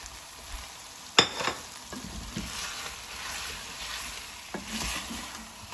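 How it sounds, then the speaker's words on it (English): Tomatoes drop into a hot pan of one-pot chicken pasta with a sharp splash, then sizzle softly while a spoon stirs and scrapes through them, close by and with no talking. "this is when you want to add your tomatoes. Tomatoes in."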